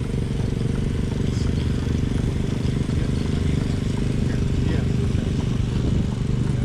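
A small Nichols and Shepherd 12-horse steam engine running at a steam show parade lineup, a steady low mechanical chugging and rumble throughout, with people talking faintly nearby.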